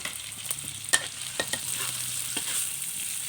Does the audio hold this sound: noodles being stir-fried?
yes